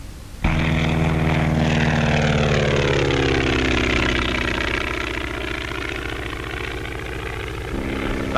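A skywriting airplane's engine drones loud and steady during stunt flying with loops and Immelmann turns, starting abruptly and holding a constant buzzing propeller roar that shifts slightly in pitch as it runs on alone.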